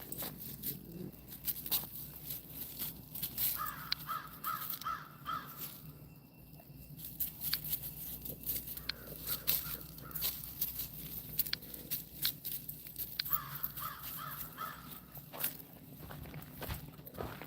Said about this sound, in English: The crows are out. They're yelling at each other.